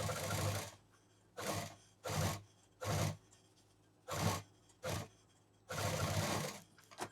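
A sewing machine stitches zipper fabric onto a party purse in six short, separate bursts of running stitches with quiet gaps between them, close and fairly soft.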